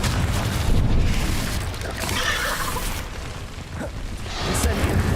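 A Confringo fire spell explodes in the video game Hogwarts Legacy, its dense roaring blast filling the mix at steady loudness with crackling debris and a swell toward the end, with a voice briefly under it.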